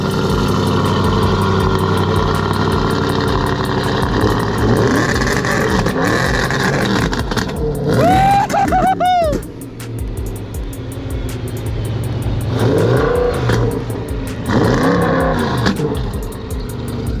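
A 2011 Audi RS5 engine revs in several loud bursts, with sharp rising and falling pitch sweeps over a steady idle, close and with no talking.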